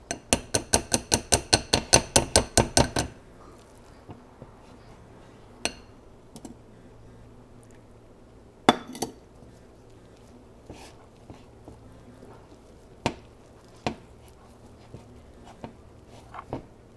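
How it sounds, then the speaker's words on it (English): A pastry cutter works milk into self-rising biscuit dough in a bowl: a quick rapid run of sharp clinks for about three seconds, then scattered single taps and knocks spaced seconds apart, with no talk. "I'm going to take my pastry cutter and I'm going to knead it inside of that dough"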